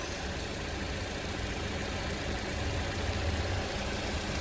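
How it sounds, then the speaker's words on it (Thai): A 2017 Toyota Corolla Altis 1.6G engine rumbles low, idling evenly, close and continuous, with no talking over it. "นี่เลยนะเสียงเครื่องโอเคมากๆค่ะ"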